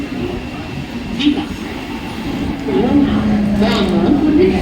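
A Mumbai local train at a station platform, steady rumbling rail noise with faint wheel squeal, heard under a public address announcement.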